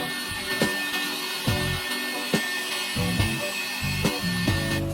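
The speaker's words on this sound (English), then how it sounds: "First, we use a wool pad for a heavy cut on the paint." A car paint polisher with a wool pad runs a heavy cut on the paint of a 17-year-old Mercedes, a steady whirring drone broken by regular bumps and pitch shifts as the pad moves, with no talk.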